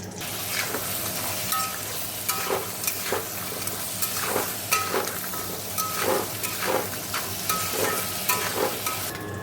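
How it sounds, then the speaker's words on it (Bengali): Crab pieces fry in hot oil, a steady close sizzle with repeated stirring and scraping strokes at an uneven rhythm and no one speaking. "চলো কাঁকড়া তেলটা যেন একটু গরম হোক কাঁকড়াটা ঢেলে দিয়ে ভেজে নেবো আগে"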